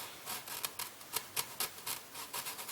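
Fine abrasive rubbing scuffs up the surface of a wooden clock dial ahead of gilding, in a quick rhythmic back-and-forth of soft rasping strokes. The sound is close but faint, with no voices.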